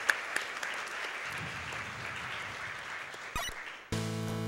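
An audience claps fairly faintly at a live speedrun marathon event during a run of the game Rockman 3 Burst Chaser, with a steady patter of many hands that runs almost the whole time before an electronic tone cuts in at the end.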